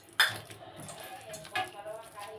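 A utensil stirs gram flour batter with onion for pakora in a bowl, giving soft scraping and clinks, with a sharper knock near the start and quiet, close movement after.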